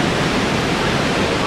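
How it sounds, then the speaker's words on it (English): A dense, continuous roar of rushing water fills everything, loud and close, steady without pause, heard from behind Niagara Falls. "We are literally behind the waterfall right now. And it's really, really loud."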